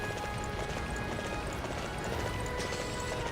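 A horse in Dynasty Warriors 9 walks along with steady clip-clop hoofbeats, set within a continuous dense game soundscape, with no talking.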